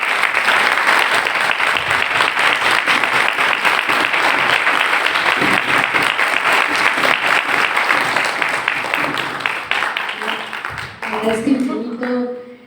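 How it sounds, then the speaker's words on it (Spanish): A lecture audience at a university chair event applauds warmly for about ten seconds, loud and continuous, then the clapping fades and a speaker's voice takes over. "Un gran aplauso."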